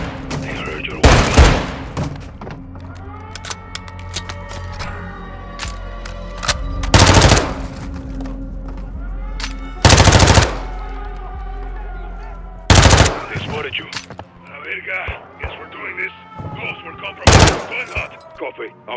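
Gunfire in Call of Duty: Modern Warfare II, with several loud bursts of automatic fire cutting through a musical score, separated by quieter stretches of game ambience.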